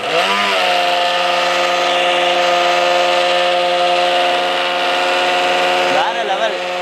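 Homemade water pump built from a mixer grinder motor runs loud and steady at its lowest speed setting, a constant high-pitched electric whine with strong harmonics spinning up at the start and briefly shifting near the end.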